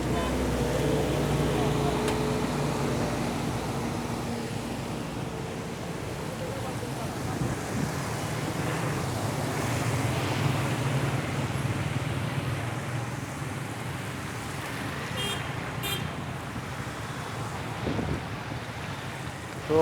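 Flooded rainwater on a street in Gulberg, Lahore, surging in waves as cars drive through it, heard as a steady broad wash of water and traffic rumble with people talking over it throughout.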